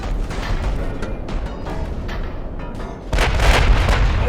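Warship guns firing in the naval strategy game Ultimate Admiral Dreadnoughts, a series of deep booming shots over rumbling background, with a heavier sustained blast near the end.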